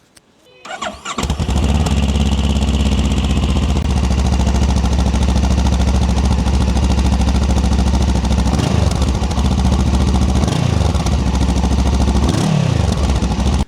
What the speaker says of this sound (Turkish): Egzoz sesini dinleteyim bir de size.